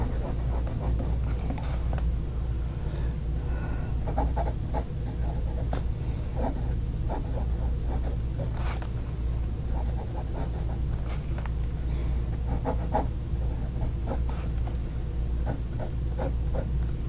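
A Jean Pierre Lupine Indigo fountain pen scratches across paper up close in soft, continuous strokes with small irregular ticks, over a low steady background hum.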